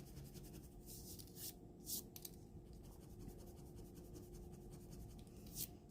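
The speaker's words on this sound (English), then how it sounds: "Let's erase these." Pencil marks being erased on paper, faint close scrubbing strokes with a few brief louder rubs standing out over a quiet background.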